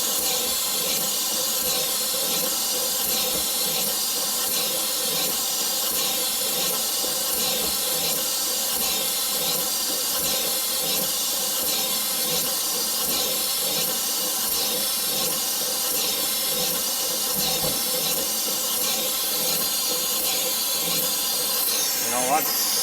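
A vertical slotter cuts an internal keyway in a manganese bronze gear while coolant sprays, giving a continuous loud hiss with a faint repeating mechanical pulse underneath across the whole stretch.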